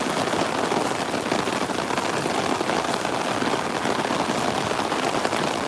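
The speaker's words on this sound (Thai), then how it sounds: "เวลาเจอฝนแบบนี้" Steady rain pours down without letup, a dense even hiss of drops hitting surfaces nearby, with no voices.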